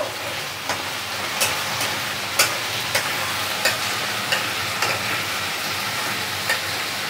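Potatoes stir-fry in a little oil with panch phoron, a constant close sizzle broken by regular spatula scrapes and taps about every half second.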